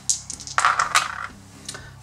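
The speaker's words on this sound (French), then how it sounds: "Donc je relance 3 dés." Three dice rattle and clatter onto a hard surface in a quick, close tumble during a Mythic Battles: Pantheon board game, then settle with a few small clicks.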